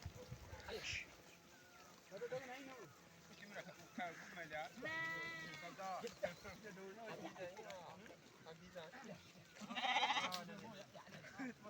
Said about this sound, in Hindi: तो ये सारे भेड़ ही भेड़ हैं।